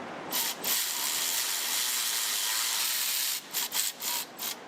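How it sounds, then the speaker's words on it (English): A scraper works over the thermostat gasket mating surface on the engine of a 1968 Dodge R/T, making a continuous close, harsh rasping scrape that breaks into a few short strokes at the end. "Clean our mating surface up with the super scraper."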